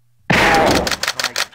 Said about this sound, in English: Oh, I got shot.